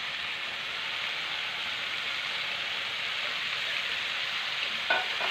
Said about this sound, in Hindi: अब इस पिसे भट को मसालों के साथ थोड़ी देर के लिए इसको भून लेते हैं